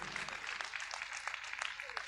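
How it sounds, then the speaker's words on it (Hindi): Scattered clapping from a lecture audience, moderately distant and steady, with a faint murmur of voices underneath. "बहुत जोरदार तालियां चंपालाल जी के लिए"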